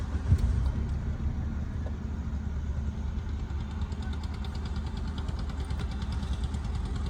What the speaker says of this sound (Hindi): अभी स्टार्ट पेट्रोल से ही होगी ना। तो अभी यहाँ से स्टार्ट करो।